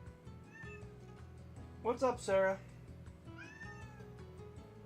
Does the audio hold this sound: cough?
no